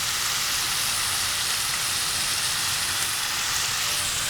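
Onions, garlic and jalapeño sautéing in a hot pan, a steady, close, continuous sizzle with no talking.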